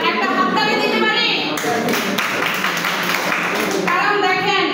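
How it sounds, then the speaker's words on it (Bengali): Applause from an audience at a gathering for a man named Parvez, a dense patch of clapping that swells in the middle under a speaking voice, with talk before and after. "আমরা প্রত্যেকে আমাদের পারভেজ ভাইয়ের জন্য একটা হাততালি দিতে পারি"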